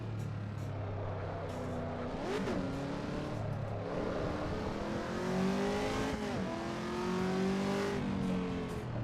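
A supercharged race car in the Assetto Corsa EVO racing game revs repeatedly, its engine note climbing and falling in several distinct pulls with a gruff, grunting tone and steady drone underneath.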